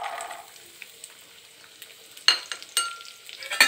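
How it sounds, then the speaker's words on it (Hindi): Coconut, almonds and chironji fry in hot ghee, a soft steady sizzle punctuated by a few sharper crackles and stirring scrapes toward the end, close and alone with no talk. "देखिए मैं घी डाल ली, अब इसमें खोपरा और बादाम चिरंजी डाल लेंगे।"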